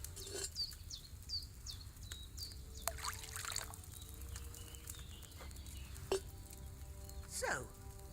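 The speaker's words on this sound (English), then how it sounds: "So, what did you pour in there? Wine, of course." Wine splashes from a pitcher into a cauldron in the video game Kingdom Come Deliverance 2, a faint trickling pour with a few short clinks and wet glugs over a quiet background.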